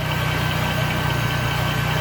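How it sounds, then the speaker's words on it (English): A brand new engine in a 2015 Regal runs at a smooth, steady idle, a close, even hum with a faint rhythmic pulse and no talk. "Very nice running engine."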